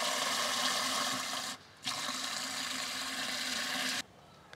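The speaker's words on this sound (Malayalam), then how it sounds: "നമുക്ക് കൂടുതൽ വെള്ളം ഒഴിച്ചു കൊടുക്കാം" Water pours from a pump onto a potted table rose plant as a steady, fairly loud rushing hiss. The hiss stops briefly once, then resumes and cuts off near the end.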